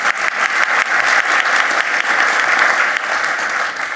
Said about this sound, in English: But a big round of applause for Kim as well.